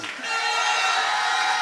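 A large crowd cheering and roaring at a political rally, a loud sustained wash of voices and shouts that swells and holds steady after an announcer's introduction.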